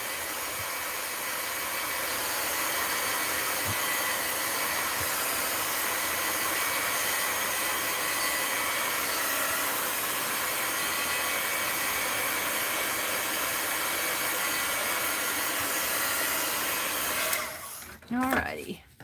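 A hair dryer blows steadily to dry walnut ink on mixed-media art journal work, a continuous close whooshing roar that lasts about seventeen seconds before cutting off.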